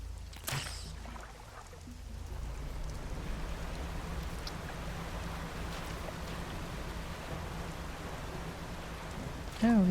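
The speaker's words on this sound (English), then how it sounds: "Oh, we have a storm boy." Steady rain with a low rumbling thunderstorm fills the scene in the fishing game Dredge, a continuous hiss of falling rain with no clear speech.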